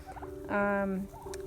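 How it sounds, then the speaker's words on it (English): A single turkey on a homestead lets out a short, loud warbling gobble at close range, with faint background clucking before and after. "So here are the turkeys."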